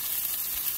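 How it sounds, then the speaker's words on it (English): A steady, close sizzle of onion and garlic frying in a small amount of hot oil in a pan, a soft crackling hiss with no voices. "add a small amount of cooking oil and fry the onion and garlic."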